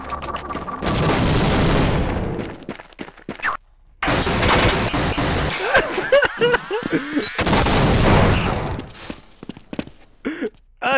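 Bursts of gunfire and explosive blasts from the shooter game Half-Life come in loud, dense volleys separated by brief silences, with a couple of shorter sharp shots and pops near the end.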